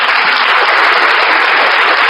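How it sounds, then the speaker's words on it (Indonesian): Audience applause at a religious gathering, a loud, dense burst of clapping that stays constant for the whole short moment. "tepuk tangan untuk Tuhan"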